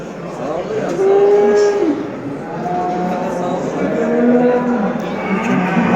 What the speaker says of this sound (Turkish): Maşallah kibar bir inekmiş